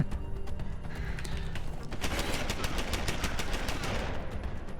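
A turret in Deus Ex: Human Revolution unleashes loud, sustained machine-gun bursts of rapid, dense rounds, building in intensity midway and continuing to the end.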